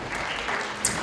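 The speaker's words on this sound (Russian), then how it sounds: "Ваши аплодисменты, дорогие друзья." A concert audience at a Russian National Unity Day event applauds a young singer from Voice Kids, producing a brief burst of steady, dense clapping.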